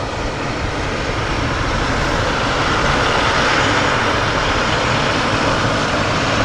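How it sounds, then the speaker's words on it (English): Boeing 777-300ER jet airliner at Manchester Airport, a loud steady engine roar that fills the whole stretch with no break, close by and constant. "Great big beast of the Boeing 777-300ER"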